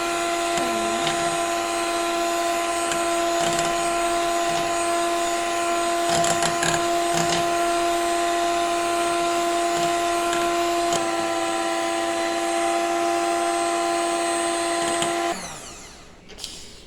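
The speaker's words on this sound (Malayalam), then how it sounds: "നമുക്ക് നമ്മുടെ ക്രീം ഒന്ന് ബീറ്റ് ചെയ്തെടുക്കാം. ആദ്യം ലോ സ്പീഡിൽ മാത്രം വെച്ച് ബീറ്റ് ചെയ്യുക." An electric beater whips cream at low speed for homemade chocolate ice cream, giving a steady, close motor whine with a constant pitch for about fifteen seconds before it switches off.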